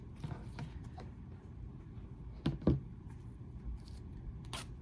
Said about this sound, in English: you can easily cut through those vinyl teeth